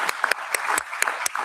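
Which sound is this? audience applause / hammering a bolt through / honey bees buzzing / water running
audience applause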